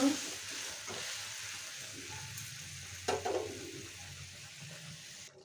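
Pieces of bhetki fish go into a boiling, watery spiced gravy for a tel jhal curry: a quiet steady bubbling simmer, broken near the middle by a brief splash and sizzle.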